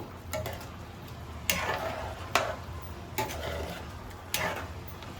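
A spoon stirs goat leg curry with coriander, curry leaves and mint in a pot, making four or five scraping, clinking strokes at uneven intervals under a soft sizzle.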